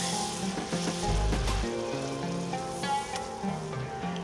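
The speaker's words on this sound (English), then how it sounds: "Cook the flour and the butter together" Flour and unsalted butter cook together in a pan for a moussaka sauce, giving a soft continuous sizzle with a low thump and light stirring scrapes.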